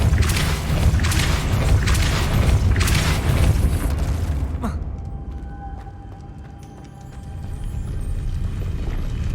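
Casting the Depulso spell in Hogwarts Legacy produces a loud, booming magical blast with a rumbling low-end roar. It lasts several seconds, then cuts to a quieter ambient game backdrop with faint chimes.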